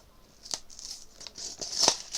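Cardboard and paper tear and snap in short, close bursts as a Funko Hello Kitty and Disney mystery mini package is ripped open from the bottom, several quick rips over a couple of seconds with no talking.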